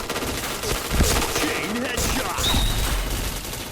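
Rapid bursts of APC9 submachine gun fire in a Combat Diver game match, loud sustained automatic volleys with overlapping shots and impact sounds filling the whole stretch.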